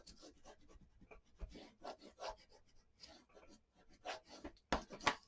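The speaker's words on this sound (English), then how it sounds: "let's go ahead and burnish that real well" Paper craft material burnished by hand for a mini album, producing a series of close, irregular rubbing and scraping strokes, quiet between strokes, with a few sharper scrapes near the end.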